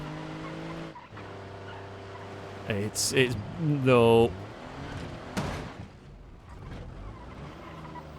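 A struggling engine and skidding tires from a simulated car in BeamNG Drive, a droning engine tone with a loud rising-and-falling tire squeal in the middle, under someone talking.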